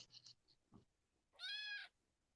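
A cat meows indoors in a quiet room: one clear, drawn-out meow near the mic after a few faint soft sounds, with no talking.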